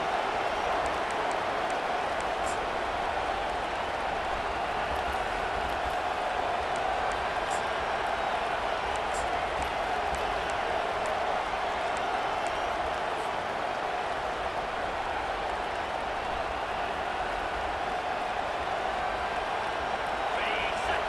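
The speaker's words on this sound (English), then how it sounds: "Listen to this crowd just shaking the girders of this place trying to help their defense." A constant, roaring American football stadium crowd cheering on its defense fills the whole stretch, a dense wall of voices that stays steady without pauses.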